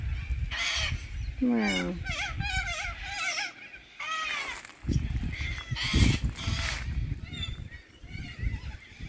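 Geese honk repeatedly at a lagoon in Clermont, Queensland, loud and close, in irregular bursts of harsh calls, with a brief exclamation from a person among them.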